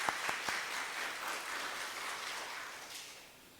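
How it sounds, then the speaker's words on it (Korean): A church congregation at a Korean Presbyterian Sunday service claps to welcome a visiting elder, opening with a few sharp distinct claps that swell into steady applause, then thin out and fade toward the end. "우리 박수로 환영합니다"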